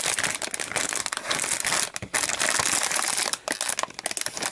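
A plastic bag from a Meng Models World War Toons Sherman M4A1 model kit crinkles and rustles in close, loud bursts with a few brief pauses, as parts and instructions are handled inside.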